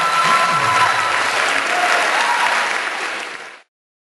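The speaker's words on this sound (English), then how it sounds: "Let's give them both a big round of applause." A studio audience on a hypnosis talk show bursts into loud, sustained applause that holds steady for about three seconds, then stops abruptly.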